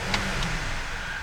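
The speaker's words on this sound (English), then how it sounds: "I'm going to rev the engine." A 2011 Buick LaCrosse CXS parked and idling, its engine giving a steady, moderate hum with a slight rise as it is revved, heard alone and close by.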